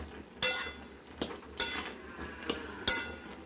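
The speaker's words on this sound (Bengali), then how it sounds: "কচু ফুটে গেছে, এবার এটাকে আমরা একটু নাড়াচাড়া করে দেবো" A utensil knocks and clinks against a metal cooking pot several times while taro greens with a hilsa fish head are stirred, giving sharp, evenly spaced taps at close range with no talk.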